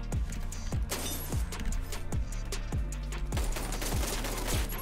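Video game gunfire in a shooter match, with dense rapid automatic bursts and heavy booming shots repeating at a steady pace, loud and close.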